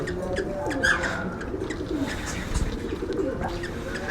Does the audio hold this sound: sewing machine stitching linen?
no